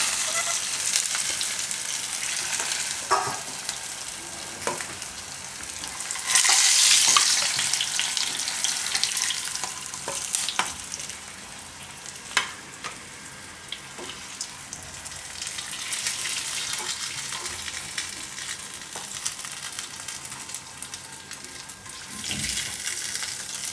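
Stuffed green chillies (bharela marcha) frying in a little oil in a pan on a gas stove, a steady soft sizzle throughout with brief louder crackling bursts and some clinks of turning, no talking.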